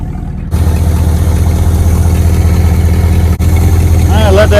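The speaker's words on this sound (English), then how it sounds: "Got a terrible exhaust leak, probably from one of the 700 holes in the exhaust." Old Ford Galaxie wagon engine running loud and close with a steady low rumble, its exhaust leaking from many holes, with a brief dip and a voice speaking near the end.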